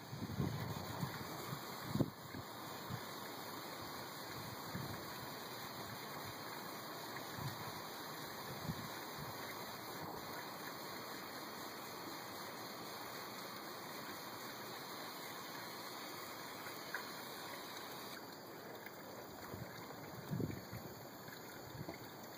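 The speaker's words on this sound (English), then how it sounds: "I'll attempt to use my Burns-O-Matic torch." Steady broadband hiss of a Burns-O-Matic torch lighter flame burning continuously, close and even in level, with a few brief bumps and no talking.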